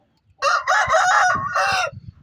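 A rooster crows loudly and close by, one long strained call in several sustained segments lasting about a second and a half, with faint scuffling underneath and no talk.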